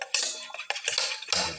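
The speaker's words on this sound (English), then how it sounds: "Mix the yellow and the white portion of the eggs together." Eggs are whisked in a bowl, the utensil clinking and scraping against the bowl in quick irregular taps, close and fairly quiet, with no voices.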